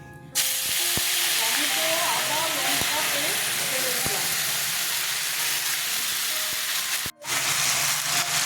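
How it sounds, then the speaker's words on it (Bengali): Dried red chillies, bay leaves and cumin seeds hitting hot oil for tempering a raw banana dhoka curry, a sudden loud sizzling hiss with crackling pops that runs steadily, then breaks off briefly near the end and resumes. "এবার আমি এই তেলে শুকনো লঙ্কা, তেজপাতা, জিরে ফোড়ন দিয়ে দিচ্ছি।"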